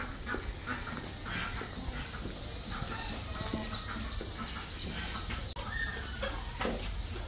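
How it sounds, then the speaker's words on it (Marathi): Free-range country chickens and a rooster in a poultry farm pen, clucking steadily at close range over a constant busy background, with a few sharper calls standing out. "ह्याच्यामध्ये कोंबडा, आणि तुम्ही खाली बघू शकता की इथे एक कोंबडी आहे"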